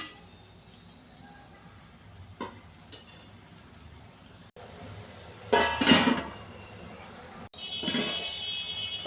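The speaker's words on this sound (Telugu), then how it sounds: "బాగా కలిపి మూత పెట్టేయాలి" Metal clatter of a cooking pot of moong dal with beetroot and grated coconut: faint knocks, then a loud scraping stir and a lid set down with a clinking rattle, close and clear.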